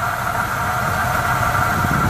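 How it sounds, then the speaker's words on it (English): An old Oldsmobile engine idles on its own fuel with a battery that needed no jump, running as a steady, loud, even rumble with a constant mechanical hum and no talk. "It's just running. It's running on its own gas."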